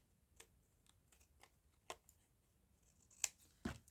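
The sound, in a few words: scissors cutting paper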